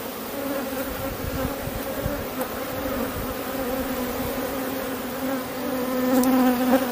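Honeybees buzz densely and continuously around an open hive during an artificial swarm split, a close, steady droning hum that swells slightly toward the end, with no talking.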